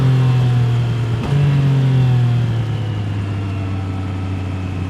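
A 2024 Triumph Trident 660 motorcycle engine pulls hard under acceleration, a loud steady drone that rises, dips briefly during a shift, then settles into a lower sustained tone, no speech.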